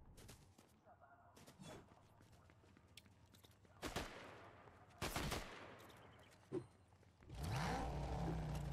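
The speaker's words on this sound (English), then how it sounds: "I hear a car and I just automatically get in." A car in the Fortnite video game, heard amid gunfire: bursts of shots and a loud engine revving up near the end, with game noise throughout.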